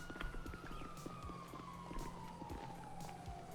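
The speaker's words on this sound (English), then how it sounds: "you hear the sirens?" A police siren wails steadily in the background of the online role-play game NoPixel, its pitch slowly sliding, with scattered clicks and thumps of game action on top.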